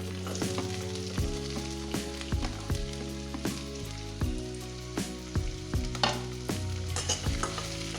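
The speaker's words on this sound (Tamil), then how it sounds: "வாணலியில் 3 ஸ்பூன் எண்ணெய் விட்டு பெருசாக நறுக்கின வெங்காயத்தை நல்லா கண்ணாடி பக்குவத்துக்கு வதக்கணும்." Oil sizzles steadily as large-cut onions fry in three spoons of oil in a pan, with occasional stirring scrapes and soft clinks over a low background hum.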